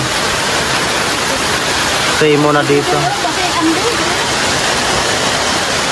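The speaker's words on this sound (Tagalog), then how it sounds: "naabutan kami ng ulan" Heavy rain pours in a steady, loud hiss at Lake Sebu, with a voice speaking briefly partway through.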